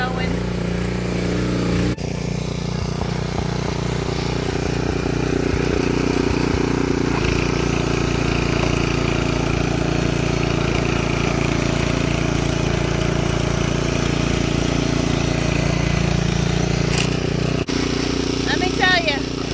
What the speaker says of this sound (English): got the tiller going.